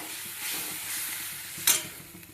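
Spinach and colocasia leaf gargata being stirred into a hot pan, a steady soft sizzle with a spoon scraping once sharply near the end, close and alone.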